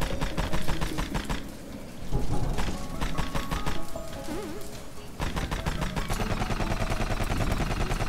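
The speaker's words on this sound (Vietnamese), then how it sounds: "À cái súng lục này càng bắn nó càng nhanh." Pistol in the video game Rusted Moss firing in rapid bursts, dense sharp repeated shots with a pause midway and then continuous fast fire, loud over game music.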